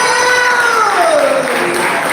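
A church congregation at a worship service applauds, a loud, continuous wash of clapping with cheering and raised voices mixed in, filling the room from start to finish.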